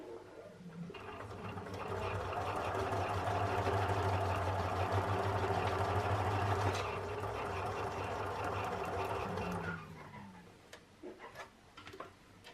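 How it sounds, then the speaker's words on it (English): A sewing machine stitches a dart along the fold line, running at a steady fast hum for about eight seconds before slowing and stopping, followed by a few light clicks and handling sounds, all close and fairly quiet. "you're going to try to sew as close as possible to the fold line, to the end where the end pin is"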